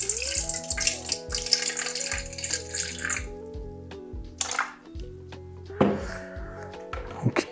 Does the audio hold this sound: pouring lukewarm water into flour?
yes